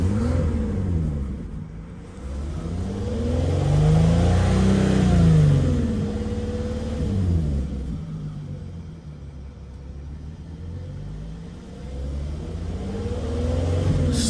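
A 78K-mile VW Atlas with its VR6 engine revving under throttle, the loud rumble climbing and falling in pitch through several sustained swells, with no talk.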